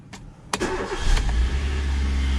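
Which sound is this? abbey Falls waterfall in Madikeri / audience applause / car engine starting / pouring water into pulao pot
car engine starting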